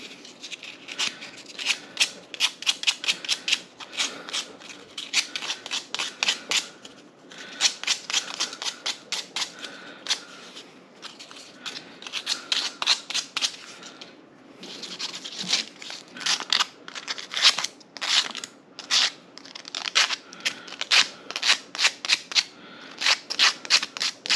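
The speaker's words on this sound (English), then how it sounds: "just a little sandpaper, hand sand, just to kind of smooth it down a little bit" Sandpaper rubbed by hand over a ring made from a Texas quarter, a rapid rhythmic scratching that comes in dense bursts with short pauses, close and steady throughout with no talking.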